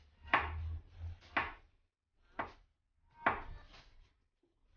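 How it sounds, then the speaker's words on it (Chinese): A knife chops salted duck egg and ham on a board in a quiet kitchen, four or five crisp, separate thuds spaced unevenly, with nothing else audible. "一根小火腿切碎，把咸鸭蛋也切碎"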